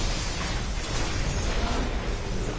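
A Yamato Cannon blast in a League of Legends match makes a loud, dense, sustained explosive roar that fills the whole short moment, with no clear talking over it.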